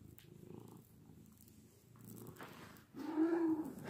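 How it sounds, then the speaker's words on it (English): A domestic cat purring close up, a soft low rumbling purr with a louder burst near the end. "Can you hear him purring?"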